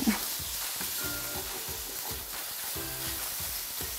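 Meat browning in a skillet on the stove for lasagna, a faint steady sizzle with soft rhythmic scraping and stirring strokes, close but quiet with no talking.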